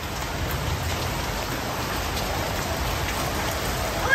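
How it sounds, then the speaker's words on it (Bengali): Heavy downpour of rain falling steadily, a dense, continuous broadband hiss of drops on surfaces that holds loud and even throughout with no voices. "এবার এত জোরে মুষলধারে বৃষ্টি হচ্ছে"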